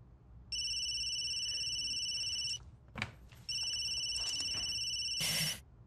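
A telephone rings twice in long electronic trills, separated by a short pause, with a brief click and rustle between and after.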